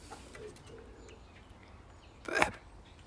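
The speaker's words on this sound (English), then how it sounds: "Bird." A single bird call rings out clearly near the end over a quiet outdoor background with faint distant chirps.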